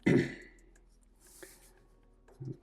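A single short, rough cough or throat clear up close, followed by quiet room noise and a faint second throaty sound near the end.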